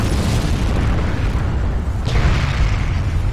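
A deep rumbling explosion as a Panther tank is destroyed in Forgotten Hope 2 multiplayer, a broad booming blast over a steady roar of battle noise, swelling near the end.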